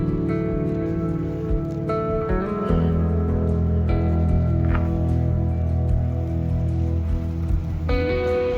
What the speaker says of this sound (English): I don't know if you guys can hear the rain on the roof.